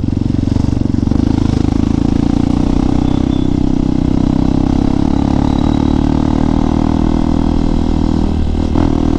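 A motorcycle fitted with a Noctus T5 exhaust rides along, its loud, continuous low exhaust drone and engine rumble steady and close throughout.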